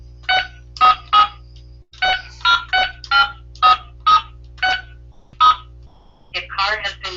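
Telephone keypad tones dialing a phone number into an automated phone menu: about a dozen short, sharp beeps in an uneven sequence over a steady line hum, followed by a recorded voice speaking.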